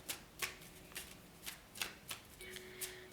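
Tarot cards shuffled by hand in a steady series of crisp riffling bursts, roughly eight soft flutters spaced evenly, close and fairly quiet, with a faint low hum underneath.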